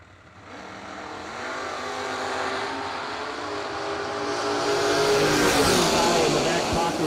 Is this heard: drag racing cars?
yes